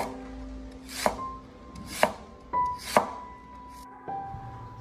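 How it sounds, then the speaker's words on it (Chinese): A knife slices through fresh lotus root on a cutting board in about four crisp, evenly spaced chops, close and distinct against a quiet kitchen background. "莲藕不要切得太厚，也不要切得太薄"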